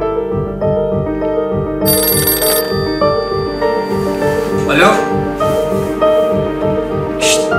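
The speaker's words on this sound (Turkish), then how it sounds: "Telefon." A telephone ringtone plays loudly and continuously over steady background music, with a few brief louder tones layered on top.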